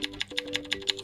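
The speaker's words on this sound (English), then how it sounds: "standard keyboard sound" The standard key press sound of an HONOR X70i phone's on-screen keyboard plays as a quick, even series of about eight crisp, soft taps, close and quiet, with a faint tone underneath.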